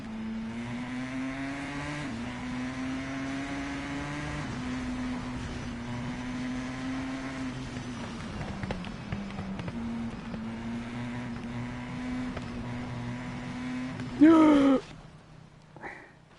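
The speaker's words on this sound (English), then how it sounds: "I love the exhaust sound." A motorcycle in the TT Isle of Man 2 racing game drones with a steady engine tone that dips and climbs, then ends in a short, sharp burst of louder exhaust crackle.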